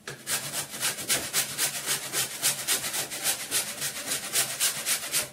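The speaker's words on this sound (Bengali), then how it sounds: "আদাটা বেটে ফেললাম, মানে ঘষে নিলাম আদাটা।" Ginger is rubbed against a grater in quick, even back-and-forth strokes, each a short rasping scrape, close and steady for several seconds.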